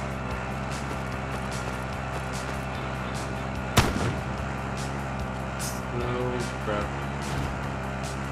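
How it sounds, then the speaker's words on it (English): A sharp gunshot-like burst from an AK-47 in the video game Warzone cracks out once over a steady game soundtrack hum and rumble, followed by a few fainter pops. "Gunfire."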